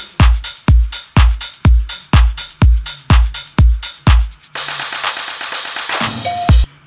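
A deep house drum loop with claps added thumps out a steady run of punchy kick and clap hits, then swells into a long, bright, noisy crash-like wash before a final hit, loud and close.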